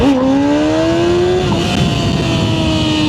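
A Honda CBR600 motorcycle accelerating hard in first gear, its engine note rising steadily in a loud, close, continuous whine with no talk over it.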